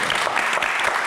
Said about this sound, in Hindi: तालियां फॉर हुमायूं।